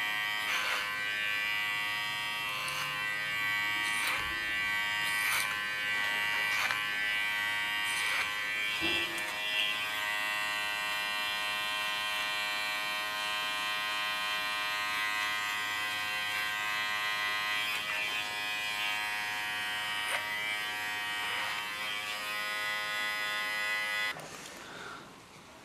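An electric hair clipper cutting short hair with the clipper-over-comb technique buzzes steadily and close for most of the stretch, with small dips as it moves through the hair, then cuts off near the end; no one speaks.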